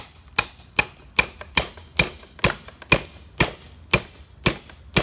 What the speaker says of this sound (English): if it doesn't come out, you're going to take your hammer